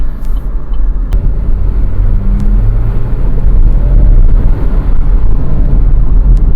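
A 2019 GMC Terrain SUV accelerating on the road, heard from inside the cabin as a loud, steady low engine and road rumble that builds slightly, with a few faint clicks and no speech.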